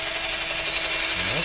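A power drill whirs steadily at close range throughout, its pitch dipping and rising near the end as it bites into material.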